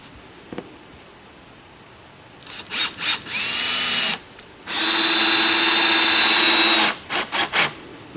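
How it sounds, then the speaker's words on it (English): A power drill drives screws into tiny house floor boards, with a few short, sharp whirring bursts followed by two longer sustained runs and more quick pulses, loud and close. "I'm just sinking the screw in a tiny bit because this will be my actual house floor"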